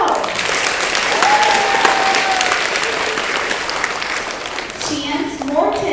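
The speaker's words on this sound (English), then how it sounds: "it's okay to clap, but don't scream" Children at a school gathering in a library clap for named students in a loud, continuous patter with brief whistle-like tones over it, and an adult voice breaks in near the end.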